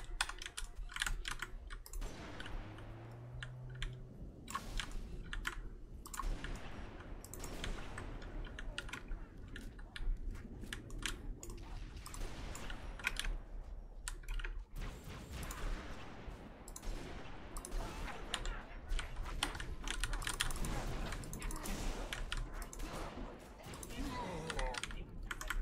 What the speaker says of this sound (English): Why do I keep clicking shift?